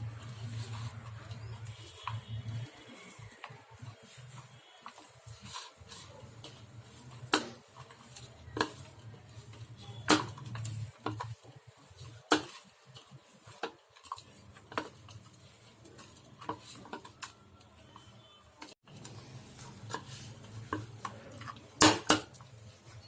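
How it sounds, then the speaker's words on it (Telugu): Telangana sarva pindi dough with palak is worked by hand in a bowl as water is added bit by bit: soft squelching and sticky patter with scattered sharp clicks and taps against the bowl, close and unhurried, with no talking. "తగినన్ని నీళ్లు కొంచెం కొంచెం పోసుకుంటూ కలపాలి"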